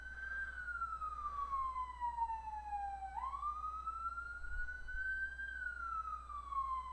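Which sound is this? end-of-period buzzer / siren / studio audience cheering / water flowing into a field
siren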